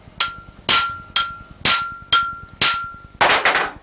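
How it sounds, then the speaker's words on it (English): A copper hammer strikes an engine part, likely the crankshaft, while a Dap T72 kart engine is being overhauled. Seven sharp, loud blows land at a steady pace with brief ringing after each one, and the last is a quick double hit. "What I'm using for this is a copper hammer."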